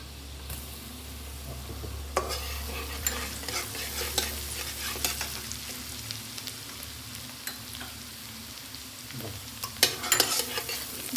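Chopped garlic stir-fried with vegetables for sautéed rice, a continuous close sizzle broken by repeated spatula scrapes and clatters against the pan.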